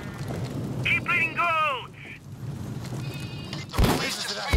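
Goats bleat in Payday Goat Simulator, several wavering, nasal calls in quick succession, followed by a sharp burst of game noise and a short tonal sound, with a voice speaking in between.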